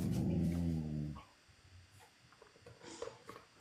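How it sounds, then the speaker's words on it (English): A dog growls low and steady for about a second, close and loud, then quieter shuffling and faint sounds follow during a search for a missing person in Alabama. "That growl sounds scary."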